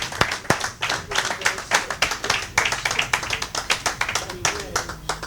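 Church congregation clapping in rhythm during a sermon, loud, steady hand claps filling the whole stretch, with voices mixed in underneath.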